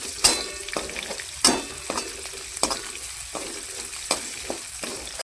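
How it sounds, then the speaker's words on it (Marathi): Soybean chunks fry in oil in a pan for vegetable fried rice under a continuous sizzle, broken by repeated sharp scraping knocks as they are stirred about every second. "सोयाबीन तळून घेते राईस बनवायसाठी."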